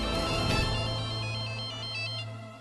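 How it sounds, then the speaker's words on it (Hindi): A phone ringtone plays loudly and close, a repeating electronic melody over a sustained tone, with no voices. "मैक, अच्छा हुआ तुमने फोन किया"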